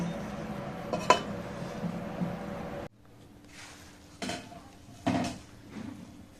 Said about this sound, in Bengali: খিচুড়ি হয়ে গেছে, আমি এখন ঢেকে দিব।